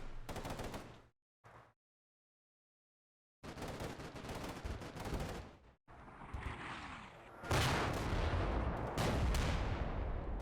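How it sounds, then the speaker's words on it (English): Artillery and gunfire in the war game Combat Mission: Black Sea, with sharp bursts and heavy blasts broken by short silences, then a louder sustained barrage near the end. "It sounds like artillery coming in somewhere"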